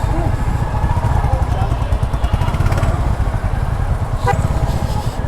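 Royal Enfield Classic 350cc motorcycle engine rumbling steadily and loud on a Dhaka street, with a second Royal Enfield Hunter riding alongside; the low thump continues without a break throughout.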